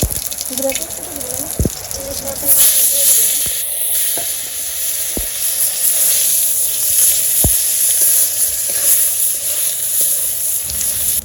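Cumin seeds hit hot oil and sizzle in a loud, sustained hiss that carries on steadily, with a few sharp clacks of utensils against the pan.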